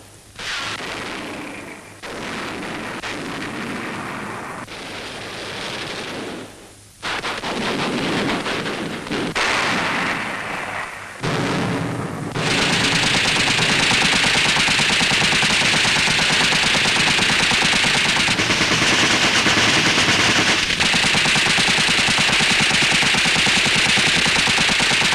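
Sustained gunfire in a German town west of the Rhine in 1945, loud bursts of machine-gun and rifle fire that break off and resume before turning into a long unbroken clatter, with no talk.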